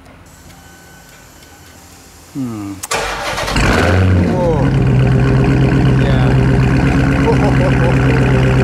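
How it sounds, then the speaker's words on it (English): A Dodge Hellcat V8 fires up by remote start: a loud crank and catch, then a deep, steady idle rumble that fills the rest of the clip, with a man briefly exclaiming over it. "Remote start, gotta love it."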